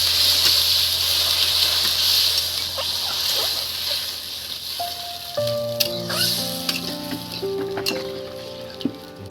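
Water poured into a pan of sizzling fish-curry masala for katla fish: a steady frying hiss gives way to a splashing pour and bubbling, with a few clanks of utensils near the end.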